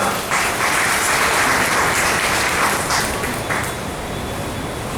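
A church congregation claps together during a Sunday New Year service, producing a dense, sustained burst of applause that fades slightly toward the end.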